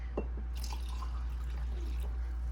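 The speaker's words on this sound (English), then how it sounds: "Now I'm going to be pouring in my coffee." Brewed coffee poured into a cup at home, a soft trickling and dribbling of liquid close by over a steady low hum, with no talking.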